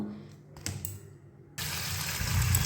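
Raw mangoes being rinsed under running water: after a quiet start with a few faint clicks, a steady, fairly loud rush of water begins partway through and continues to the end without any speech.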